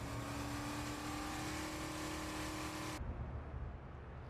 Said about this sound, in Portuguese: Agora aqui eu já tô fazendo curva com o carro